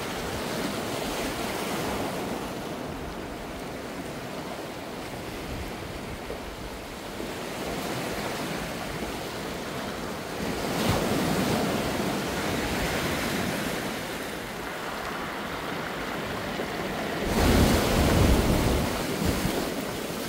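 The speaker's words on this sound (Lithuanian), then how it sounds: "Tikėkimės, bangos nenuneš." Ocean waves break on the shore in a steady, wide wash of surf with wind, swelling louder a couple of times as bigger waves crash close by.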